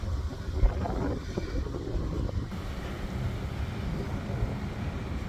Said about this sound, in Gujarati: ઠંડો પવન આવે છે.